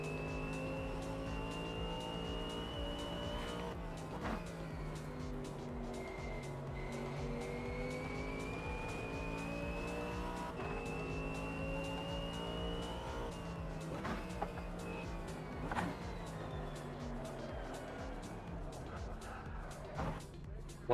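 Racing-game car with little rear grip driving hard, its steady engine drone rising and falling through gear changes and throttle lifts, with brief tire screeches as it slides, continuous and close throughout.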